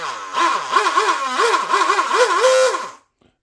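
A DIY Shrimp rigger RC boat's motor and driveline spin up in several short throttle bursts, its whine rising and falling in pitch close by before cutting off abruptly, with no talking.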